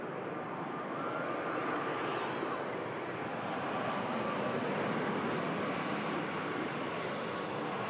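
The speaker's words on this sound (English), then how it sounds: "this Ryanair Max 8200 touching down from Rezov without an issue" A Ryanair Boeing 737 Max 8-200 touches down on the runway, a steady broadband jet roar that holds loud and constant throughout with no pauses.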